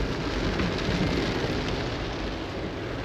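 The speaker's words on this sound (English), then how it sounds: "and of course it's raining" Rain falls steadily outdoors, a dense even hiss that stays constant throughout with no voices.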